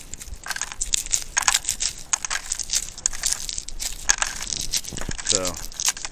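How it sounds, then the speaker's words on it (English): Seeds are pried out of a dried American Giant hybrid sunflower head, producing close, rapid crunching and crackling snaps in irregular bursts, with a voice speaking briefly. "Now that my sunflowers have dried, time to start taking the seeds out of here."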